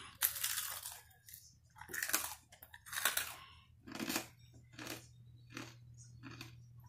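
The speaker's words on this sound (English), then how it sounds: "my cousin wanted to test the crunchiness of these wings that we got as a hookup" Crunchy chicken wings being bitten and chewed up close, a series of about seven sharp, crackling crunches spaced roughly a second apart over a low steady hum, with no talking.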